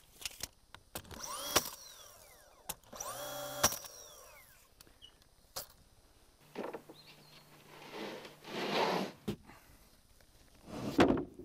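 Screws being driven into shed door sheathing with a power drill, short whirring bursts and wooden knocks and clunks between quiet pauses, close and moderately loud.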